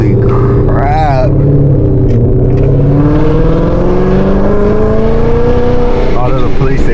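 Supercharged Ford Mustang fitted with an ESS supercharger kit accelerates hard, its engine roaring loud and steady with rising and shifting revs throughout, while people speak excitedly over it.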